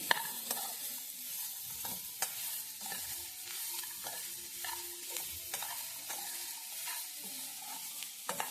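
Vegetables for upma sizzle in a pan while a spatula scrapes and stirs in a regular rhythm, close up and fairly quiet, with no voices.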